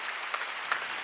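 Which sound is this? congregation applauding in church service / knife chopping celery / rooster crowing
congregation applauding in church service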